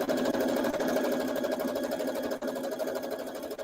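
A sewing machine runs fast and steadily while piecing a quilt top, a close, continuous whirring hum with a dense mechanical chatter and no pauses or talk.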